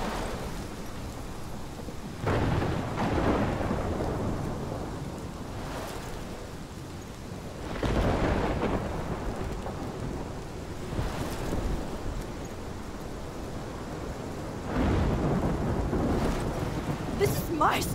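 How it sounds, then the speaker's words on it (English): Steady heavy rain hisses throughout a thunderstorm in the video game Life Is Strange, with several deep rumbling thunder swells rolling in and fading at intervals. "This is my storm."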